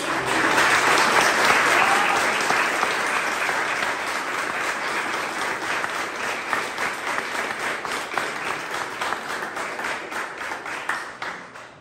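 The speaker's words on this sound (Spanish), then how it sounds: "vamos a dar un fuerte aplauso a nuestra señora" A congregation at the Virgen del Carmen patron saint festival in Gallos Grandes, Tula, Tamaulipas gives a strong round of applause, loud and dense at first, then thinning into scattered individual claps as it fades.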